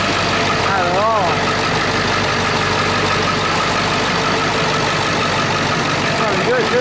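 A 7.3 diesel engine idling just after starting, a loud, steady close rumble running the whole time with someone talking over it.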